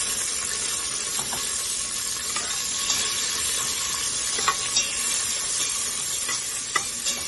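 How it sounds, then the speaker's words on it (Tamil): Steady sizzling of long-sliced onions and a green chilli frying in a pan, a constant crackle with occasional louder pops and the scrape of stirring. "வெங்காயம் வதங்கிட்டு இருக்கு"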